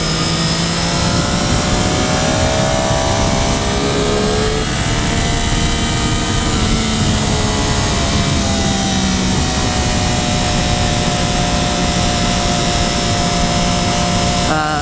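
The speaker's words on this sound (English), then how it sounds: "as you roll on, the engine is quite smooth" A loud 2013 Triumph Daytona 675R sport motorcycle engine revs continuously, pitch climbing and shifting through gears as it accelerates, with rushing wind noise throughout.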